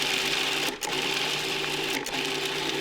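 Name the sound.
food processor blitzing pesto with salt and pepper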